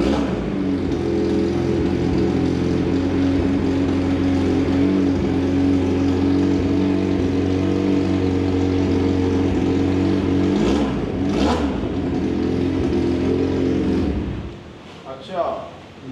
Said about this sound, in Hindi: अब आपने साउंड चेक किया है, जैसे आपको पता लगा होगा कि यार वाकई कोई बाइक स्टार्ट हुई है।